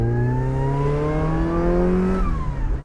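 A tuned car with an M45 supercharger revs hard and close, a strong droning pitch climbing steadily before dropping off and cutting out abruptly, no voices present.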